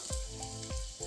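Onion dropped into a hot pan for veg hakka noodles, a short burst of close sizzling with a couple of soft clatters.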